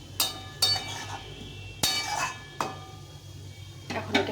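A cooking pot of duck egg curry is lifted off the stove with a handful of sharp metallic clanks and clinks spaced a second or so apart, close and fairly loud over a faint background hum.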